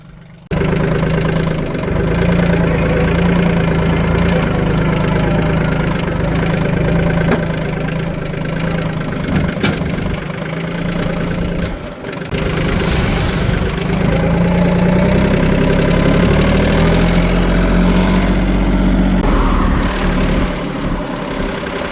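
A farm tractor's engine idles loud and close with a steady low rumble, briefly dipping midway before settling back to the same even drone.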